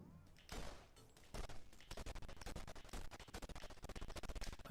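Rapid bursts of video game gunfire, fired while going for a headshot, crackle loudly and fast in a dense run, with a quieter stretch at the start before the shots pile up.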